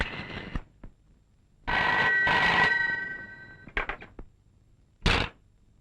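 An old landline telephone ringing in a comedy film scene, one sustained bell-like ring burst between brief clattering knocks, fairly loud and without talk.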